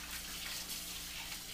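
Tap water runs steadily over Peruvian rice being rinsed in a kitchen, a quiet continuous wash with no talking.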